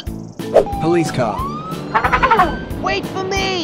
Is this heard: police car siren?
yes